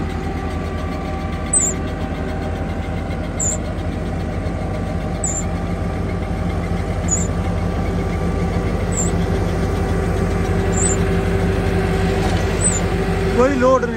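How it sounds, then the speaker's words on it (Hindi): A tractor engine running with no load while hitched to a rotavator and super seeder, a steady low rumble with constant droning tones throughout, a faint regular ticking above it, and someone talking over the noise. "कोई लोड नहीं ट्रैक्टर पे"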